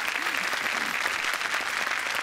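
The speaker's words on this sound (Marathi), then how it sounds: "त्यांच्यासाठी एकदा जोरदार टाळ्या." A studio audience at a Marathi comedy show bursts into loud, continuous clapping to greet actor Prasad Oak on stage. The dense applause holds evenly throughout, with no speech over it.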